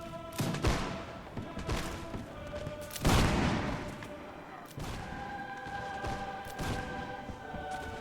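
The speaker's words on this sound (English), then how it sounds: "Oh, damn it, cannon fire!" Cannon fire in Mount & Blade Warband booms out in several heavy, spaced blasts over a steady din of battle, with a rumbling tail after each shot and a tonal hum running beneath.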